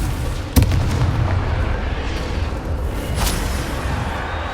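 A Confringo blasting spell going off in Hogwarts Legacy, a sudden loud booming burst near the start followed by rumbling debris and a second softer blast, with game ambience underneath.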